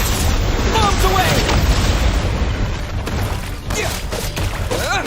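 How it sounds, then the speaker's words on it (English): Bombs explode in Genshin Impact as heavy, continuous booming rumble fills the scene, loud and dense with sharp bursts layered over a deep roar. "Bombs away!"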